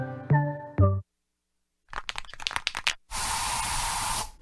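In a TV advert, bug spray hisses from an aerosol can inside a home in one sustained burst near the end, following a short musical jingle and a few clicks and rustles.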